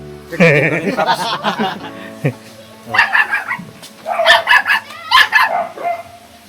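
A puppy at a house gives several bursts of high, sharp yips and barks with brief pauses between them, close by, while people talk and chuckle nearby.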